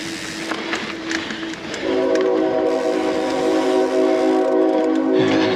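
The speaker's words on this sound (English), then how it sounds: "you have to cross the train track to get to the parking lot here, which is why you can hear that train." A train passes near a bike trail crossing, its horn blowing a sustained chord close by over the low rumble and rattle of the cars.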